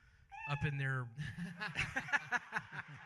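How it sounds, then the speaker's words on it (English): A cat meows in a drawn-out, wavering cry close by, followed by someone speaking over scattered background chatter and laughter at a Christmas gathering. "That's a cat."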